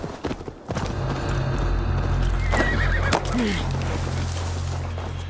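A horse whinnies loudly in the video game Assassin's Creed Valhalla over a steady low hum and game background sounds, with a rising whinny tail near the middle.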